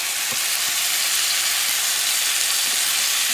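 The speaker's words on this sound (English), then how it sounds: "I like to sear my rabbit" Rabbit searing in a hot pan for a fricassee, giving a steady, loud, unbroken sizzle with faint crackles throughout.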